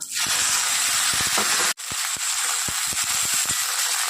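Cauliflower, potato and slit green chilies hit hot oil tempered with whole cumin, giving a loud, continuous sizzle with a brief break and scattered crackles and pops throughout.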